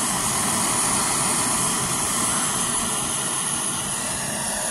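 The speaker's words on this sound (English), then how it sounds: "All right, we've got the jet stove going." Camping jet stove burning outdoors, a steady loud roaring hiss that holds unchanged throughout with no talk.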